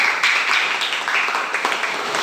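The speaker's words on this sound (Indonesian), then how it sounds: "tepuk tangan untuk kelompok 2" A steady burst of clapping from a group, dense and sustained for a couple of seconds, with no voices over it.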